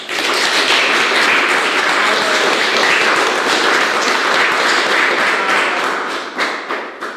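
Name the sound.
applause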